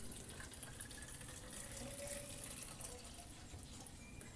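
Water running from a cold tap into a container, a soft, steady, continuous splashing trickle at low level with no talk over it.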